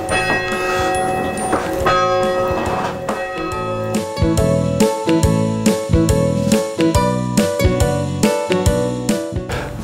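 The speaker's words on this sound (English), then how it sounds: "The main reason to come up here, of course, is to ring the bell." Church bell rung in the steeple of the historic Jamesport Meeting House, loud rhythmic strokes ringing out in a steady repeating pattern with long overlapping resonance between hits.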